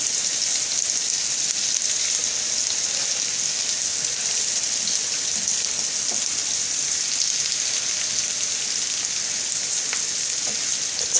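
Potatoes frying in butter in a pan give off a steady, dense sizzle with fine crackling throughout, close and continuous, with occasional faint clinks of stirring.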